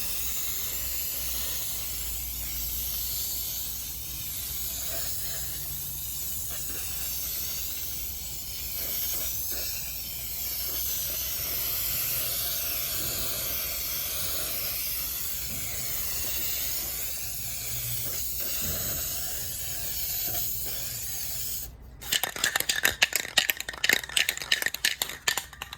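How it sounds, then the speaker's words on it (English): A spray paint can hisses in a long steady stream while refinishing mirrored nightstands, then breaks into a loud, rapid rattling as the can is shaken near the end. "be sure that you make sure that you shake your can up while you're spray painting"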